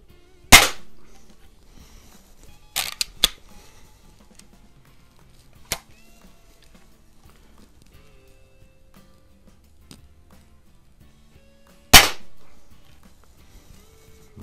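Sharp single shots from a Daisy No. 101 Model 36 or Quackenbush No. 4 smooth bore gun, a few crisp cracks spaced seconds apart with small clicks and handling sounds between, indoors and close, otherwise quiet.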